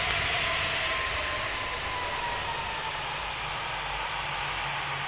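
An airplane engine in the Roblox Pilot Training Flight Simulator game gives a steady, broad whooshing drone with a faint high whine, holding an even level throughout with no speech.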